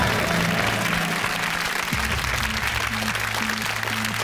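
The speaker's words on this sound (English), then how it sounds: "Give them a round of applause" Studio audience applause on a British television quiz show, a steady wash of clapping with low musical tones and a synth jingle running beneath it.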